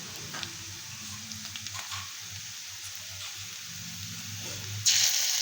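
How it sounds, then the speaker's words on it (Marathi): Onion browning in oil in a kadhai for soya chilli, a soft, steady sizzle with faint crackles and a louder hissing burst near the end, no voices. "सोयाबीन चिली करण्यासाठी आपण त्याच कढईत थोडं तेल टाकून घेतलं आहे. कांदा लालसर परतून घेतलेला आहे."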